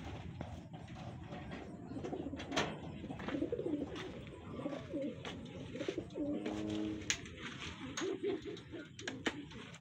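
Racing pigeons coo softly in low, repeated warbling calls at a pigeon race in Carmona, Cavite, amid clattering, shuffling noises and scattered sharp taps.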